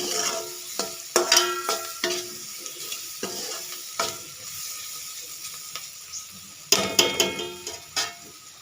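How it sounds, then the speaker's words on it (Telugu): Cauliflower frying in a pan, a spatula scraping and stirring in quick repeated strokes with short pauses between bursts over a light sizzle, close and clear with no talking. "ఇట్లా క్యాలీఫ్లవర్ కూడా మొత్తం వేయించేసుకోవాలి కలిపి"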